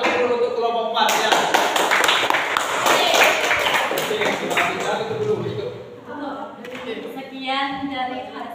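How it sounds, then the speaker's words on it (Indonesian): Classroom group applauds group 4 after its presentation in a teacher-training session: a burst of clapping with sharp taps that rises, continues near and lively, then thins, while voices talk over it. "beri tepuk dulu untuk kelompok 4"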